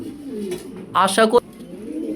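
A pigeon gives a short, throaty coo close by, a soft rolling call rising briefly over a low background murmur.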